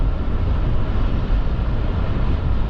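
A 2024 Chevy Silverado 3500 pickup truck accelerates on the highway, a steady, loud, broad engine and road drone heard from inside the cab without pause.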